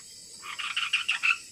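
Frogs croaking in a quick rhythmic series of about eight rasping pulses, moderately close, with nothing else audible around them.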